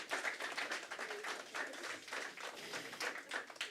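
A seminar audience claps after a round of presentations; dense, steady applause from a moderate-sized crowd with irregular swells, heard at a middle distance.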